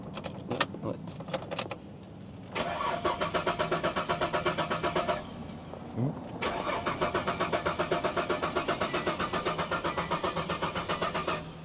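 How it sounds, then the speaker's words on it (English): Keys jingle, then the starter of a car with 330,000 km and very low fuel cranks in a rapid rhythmic churning for a few seconds, pauses briefly, and cranks again at length without catching; close up. "Give it a crank, see what happens, Shad."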